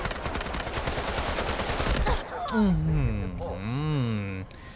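Rapid automatic gunfire from a ScarH rifle in the shooter game Delta Force, a dense loud burst lasting about two seconds, then stopping as a voice talks excitedly.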